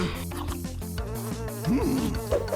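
Cartoon bees buzz steadily with a bright insect whine, up close under music and animated sound effects, with no talk over them.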